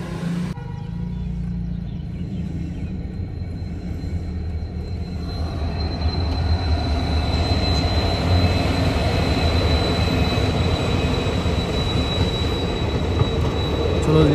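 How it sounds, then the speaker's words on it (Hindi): An Indian passenger train rolls past near Haridwar, starting quietly before the rumble of wheels and carriages builds and stays loud and close, with a thin high squeal of wheels running over the passing cars. "ये पैसेंजर ट्रेन भी पार हो गई"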